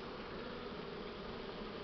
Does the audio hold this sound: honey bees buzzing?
yes